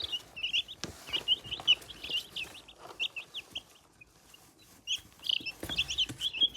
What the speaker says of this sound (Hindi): ये देखें ये हमारे चिक्स हैं जो जिनको सर्दी लग रही है।